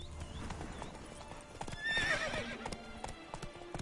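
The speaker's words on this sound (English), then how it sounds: "Oh, horses!" Horse hooves clip-clop steadily while a horse neighs loudly partway through, over a busy background in The Witcher 3: Wild Hunt.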